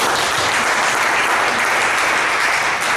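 A workshop audience gives a round of applause, dense, steady clapping from many hands, loud and continuous throughout with no voices standing out.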